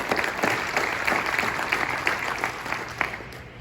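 Audience applauding a retired court administrator and judge at a dedication ceremony for an administrative judge visual archive, a steady patter of clapping from a modest crowd with a few sharper claps standing out.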